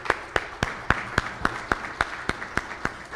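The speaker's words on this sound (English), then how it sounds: "let's give them a round of applause" Slow, evenly spaced claps at a brain injury association's 40th anniversary celebration, about a dozen distinct hand claps in a steady rhythm, fairly close and moderate in volume.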